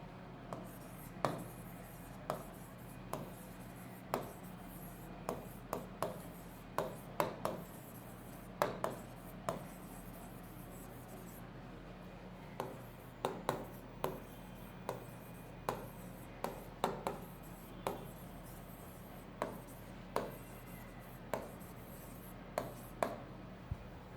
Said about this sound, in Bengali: দাঁড়াও আমি একটু তোমাদের এইখানে একটু লিখে বুঝাই দিচ্ছি।